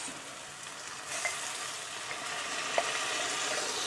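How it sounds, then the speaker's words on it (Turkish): Tomatoes go into a hot pan while cooking an olive-oil cauliflower dish, giving a steady broadband sizzle of frying with a few soft stirring clicks, close and moderately quiet, with no talk. "Şimdi de domates koyuyoruz."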